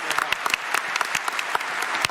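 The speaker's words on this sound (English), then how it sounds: "A round of applause for Chris." Audience applause at a PAX West 2018 gaming convention panel, a steady wash of many hands clapping in a large room, with a few sharper claps standing out throughout.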